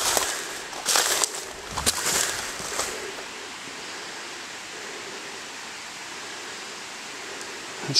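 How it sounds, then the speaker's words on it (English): A steady, broad rush of falling water from a waterfall on a rural horse farm property fills the air, with a few bumps and rustles early on before the roar settles into an even wash. "There's quite a waterfall over here. I can hear it pretty well."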